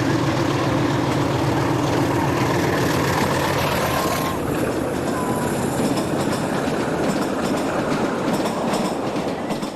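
A Portuguese diesel locomotive built 1968–1969 hauls an interregional passenger train away from Barreiro, a loud, continuous engine roar layered with rolling wheel clatter that stays close and dense throughout.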